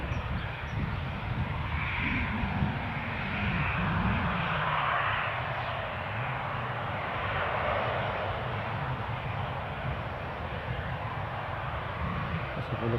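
An aircraft flies near Newcastle airport at dusk, a steady low engine drone holding for the whole stretch at moderate distance, with no voices.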